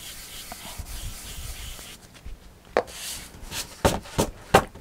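Glitter rubbed by hand into a glue-stamped design on a card, a soft steady scrubbing followed by several sharper brushing strokes toward the end, close and alone.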